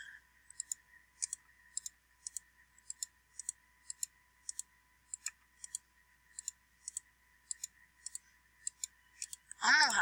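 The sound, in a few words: computer mouse clicking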